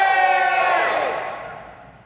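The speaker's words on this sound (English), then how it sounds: "More of a happy cheer." A crowd at an open-stage music night gives a loud, happy collective cheer, a sustained chorus of voices that swells briefly and then fades away over about two seconds.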